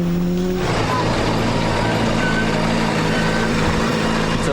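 A WRC rally car, Petter Solberg's, charges along a slippery gravel stage at Rally Japan 2005, its engine loud and steady with rising and falling revs throughout, close to the microphone.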